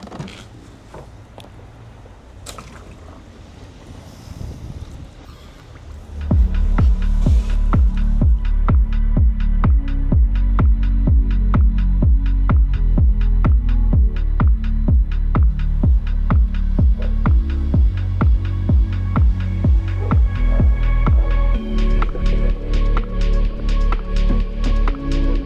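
A Beatbot Sora 30 robotic pool cleaner working in a pool of water with sand and debris gives a loud, close, rhythmic throbbing pulse after a quieter start, repeating steadily for about twenty seconds.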